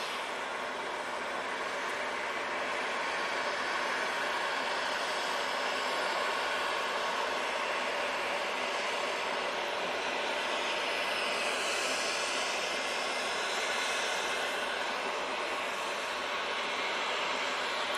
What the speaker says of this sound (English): enjoying the 777 going off there